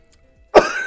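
A single sharp, loud cough right up close from a man whose cough drop isn't helping, bursting out after near silence and trailing off into a brief rasp.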